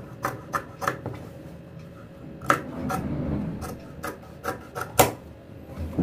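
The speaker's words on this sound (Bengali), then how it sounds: "তো আমি 1/4 ইঞ্চির মতো কেটে নিচ্ছি আগে।" Scissors cut a round kameez neckline in fabric, making short crisp snips at irregular intervals over soft rustling of the cloth, close and fairly quiet.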